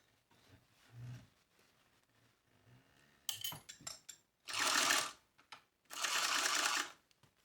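A sewing machine basting together the fabric pieces of a Clea fanny pack, sounding in two loud sustained runs of about a second each, with shorter stitching bursts before them and quiet pauses in between.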